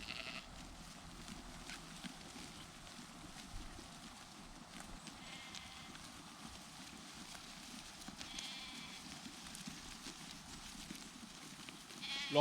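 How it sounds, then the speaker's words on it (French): Ewes bleating on an open summer farm pasture, a few calls scattered over steady outdoor ambience, moderately distant and fairly faint, with no talking. "les brebis auraient tendance à marcher sur toute la parcelle et à abîmer les 3/4 de la prairie"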